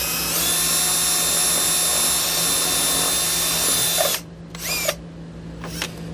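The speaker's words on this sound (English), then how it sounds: "So what I'm going to do is take a drill and create an opening in it." A power drill whines steadily as it bores through a rubber grommet in a car floor, a loud close high-pitched drone that stops abruptly, followed by two shorter bursts of drilling.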